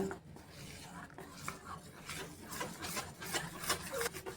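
Jaggery is stirred into a lentil batter for poya pitha, a soft, quiet scraping and rubbing of a spoon against a bowl, close and continuous with no talk.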